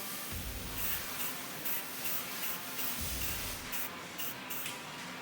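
Aerosol can of black paint sprayed onto a rear lower suspension arm of a CFMOTO Uforce 1000 side-by-side, a steady close hiss running almost without a break, with slight surges and short dips between passes.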